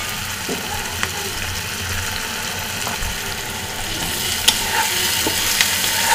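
Potatoes and chili paste fry in a pan while being stirred, a continuous loud sizzle with a few sharp utensil clicks and scrapes, no speech.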